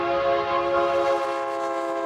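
A train on America's first transcontinental railway, completed in 1869 across the Great Plains, sounds a loud, sustained horn or whistle with a steady, rich tone that holds without a break for about two seconds.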